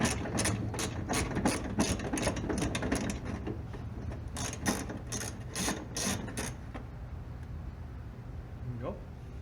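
A hand ratchet on a socket extension backs out a 10mm screw from the front bumper of a 2006-2009 Toyota 4Runner. Quick bursts of clicking repeat close up, then trail off into a quieter stretch with a few faint clicks at the end.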